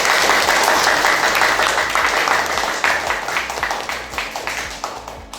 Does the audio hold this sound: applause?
yes